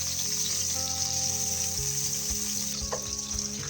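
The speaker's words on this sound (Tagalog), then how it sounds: "Sa isang kawali ay maglagay lang tayo ng kaunting mantika, tsaka natin ilagay ang margarine" Cooking oil and margarine melting in a frying pan, producing a steady, close sizzle and crackle that continues without a break, with faint tonal hum in the background and no one talking.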